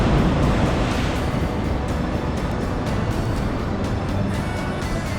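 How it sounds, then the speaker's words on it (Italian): Sea waves surge against coastal caves at Fuerteventura in a loud, continuous roaring wash, a broad steady rush of surf without pause. "contemplare da vicino tutta la potenza sprigionata dalle onde del mare"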